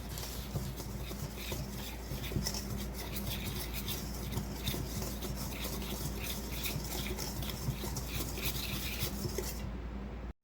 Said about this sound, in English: I'm just going to whisk this together.